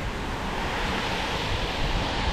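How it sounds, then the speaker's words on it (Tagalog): Strong current of a roadside creek in New Zealand, a continuous, loud wash of rushing water that stays even throughout with no talking. "Lakas ang agos ng tubig."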